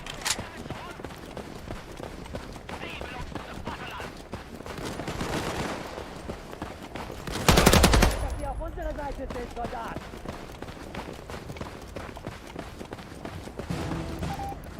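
Gunfire from the World War II shooter Battalion 1944 during an online match, scattered shots and bursts under continuous game noise, with one louder close burst near the middle and people talking throughout.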